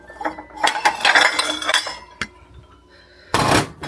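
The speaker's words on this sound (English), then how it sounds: "It's getting the plates out because that means it's time to eat." Ceramic plates taken out and stacked in a kitchen, with bursts of clattering and clinking, a lone sharp knock, then a final loud clatter, close by and with no talking.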